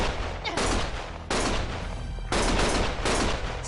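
Bursts of heavy gunfire crackle in the video game Lost Judgment, loud dense volleys repeating in several waves with brief gaps, filling the whole clip.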